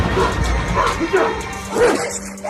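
A large Kangal guard dog barks several times in quick succession, deep and loud, close by.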